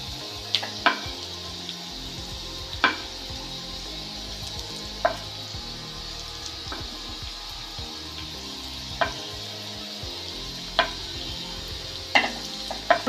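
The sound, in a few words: sautéing tomato and onion in a pan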